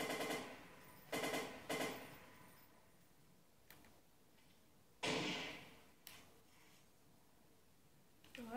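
Gunfire in the Watch Dogs video game, a few quiet short bursts and single sharp cracks scattered over several seconds, faint and distant against low background noise.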